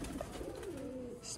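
A Sialkoti quail pigeon coos once in a low, drawn-out, gliding call, close and fairly clear over faint background noise.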